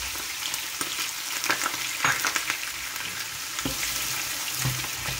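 Onions frying in hot oil for egg biryani, a dense close sizzle with repeated crackling bursts and light stirring scrapes throughout, no talking.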